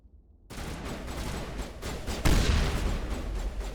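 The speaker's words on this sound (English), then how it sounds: "Open fire. Open fire!" A burst of dense gunfire erupts in a Mass Effect firefight against Exogeni mercenaries, starting abruptly after a brief silence and swelling into sustained, overlapping shots with a louder surge midway.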